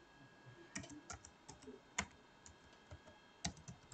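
Password being typed on a computer keyboard while activating a HiLook IP camera, a quiet run of close, irregular key clicks with a few sharper taps and no talk.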